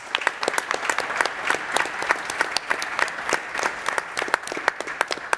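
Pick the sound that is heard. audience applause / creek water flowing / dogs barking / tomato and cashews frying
audience applause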